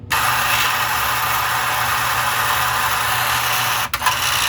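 A Lionel O gauge horse car and corral mechanism runs with a steady, loud buzzing rattle that continues without pause apart from one brief dip near the end, with no voices.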